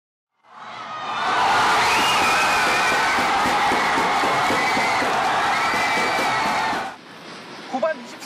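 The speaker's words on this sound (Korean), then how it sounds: "교민들의 함성이 실리콘밸리의 한인 교회당을 가득 메웠습니다" Korean expatriate crowd roaring and cheering for a World Cup goal against Russia inside a Silicon Valley Korean church hall, a loud sustained cheer of many voices that swells, holds for several seconds, then drops off abruptly.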